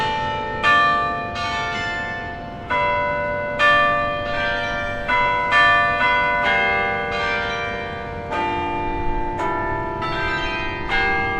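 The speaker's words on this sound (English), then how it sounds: "Starting with We Gathered Together and ending with Amazing Grace, the bells played 15 minutes of hymns." Campus bell tower bells ring out a slow melodic hymn, each struck note sounding clearly and lingering, with a bright resonant tone and no voices.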